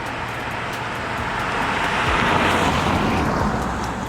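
Inside an Acura TL while driving, a steady broadband road and tire rumble that swells slightly midway, with no talk.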